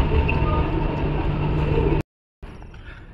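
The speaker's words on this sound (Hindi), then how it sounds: "आ गई है अपनी मेट्रो।" Metro train on Singapore's North East Line arriving at Farrer Park station, a steady loud rumble and hum of the train with broadband rail noise lasting about two seconds before cutting out, then resuming more faintly.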